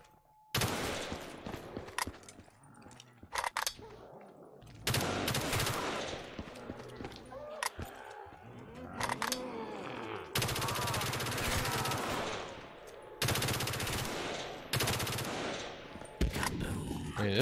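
Gunfire in a Black Ops 3 custom zombies map in a frozen forest setting: loud bursts of rapid automatic shots come in repeated volleys separated by short pauses, with faint game sounds between them.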